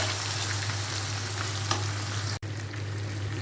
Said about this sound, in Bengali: পেঁয়াজটা একটু দিয়ে দেবো এখন।